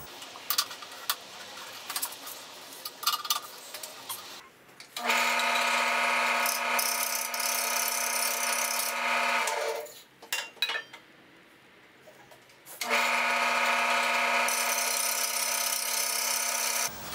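A wooden box lid held in a lathe chuck spins with a steady mechanical whine and tonal hum in two long runs, broken by a brief stop; light scraping and handling noises come before the first run.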